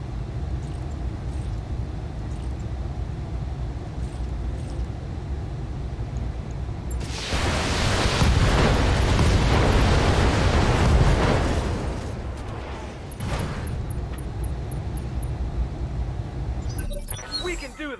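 Missile salvo and explosions in the BattleTech game erupt midway as a loud, dense broadband burst lasting several seconds, rising out of a quieter rumbling background and trailing off with a few smaller blasts.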